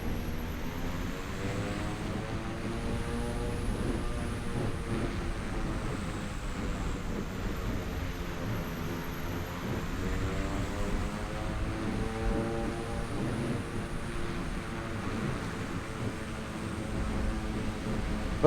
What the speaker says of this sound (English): Just going to turn the aircraft around.